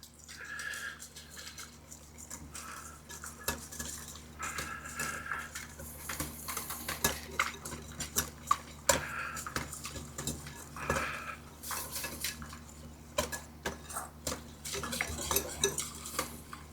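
A whisk clinks and scrapes against a bowl while mixing a catfish marinade, with quick irregular metallic taps and swishes, close and fairly quiet with no talking.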